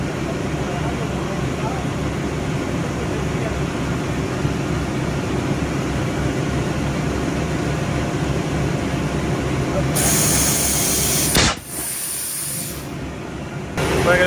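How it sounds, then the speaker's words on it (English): A bead cheater releases a loud sustained hiss of air to seat a tyre bead on a quad, with a sharp burst near the end, heard under steady background noise. "we're going to try with the bead cheater"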